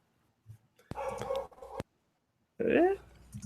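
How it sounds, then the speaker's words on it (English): A puppy barks in the background of a prop-making workshop, a few short, fairly quiet yips and whimpering barks separated by pauses. "Can you hear the puppy in the background still?"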